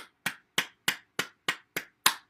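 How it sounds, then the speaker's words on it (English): Seven sharp, hollow claps from cupped hands land at a steady, even pace, close and alone with no talking. "Let's clap our hands"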